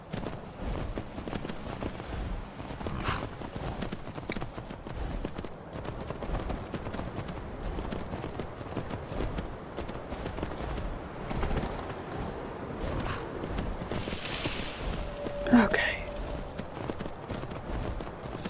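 Hooves clip-clop in a steady rhythm as a horse carries its rider across the terrain of the game Skyrim, a continuous mid-level trot with a brief bright chime-like effect near the end.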